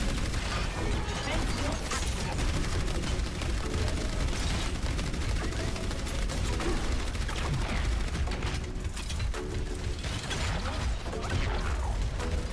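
Orisa's gun firing in Overwatch, a steady, mechanical stream of rapid shots clattering on for over ten seconds, loud and dense, mixed with other game noise and some talk.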